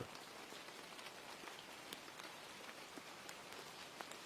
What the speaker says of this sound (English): the rain falling outside